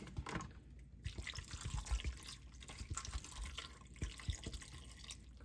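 Water pours into a pan of galunggong fish with soy sauce, a continuous faint trickling and splashing with small drips, heard up close at low volume.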